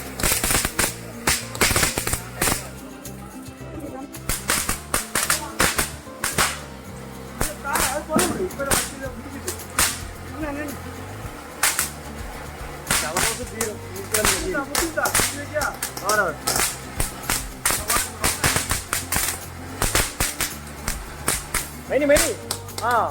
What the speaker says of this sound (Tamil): அடுத்து இது நம்ம எப்போவுமே விடுற புஷ்வானம் தான்.